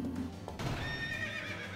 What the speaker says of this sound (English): That's a horse sound from Ocarina of Time.